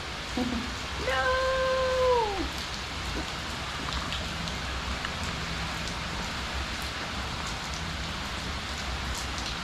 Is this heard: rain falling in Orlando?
yes